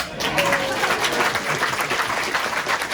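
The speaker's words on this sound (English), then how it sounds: "That's a clap there, I think." An audience at a fire brigade demonstration claps, a dense, even patter of hands lasting a few seconds with a faint crowd murmur behind it.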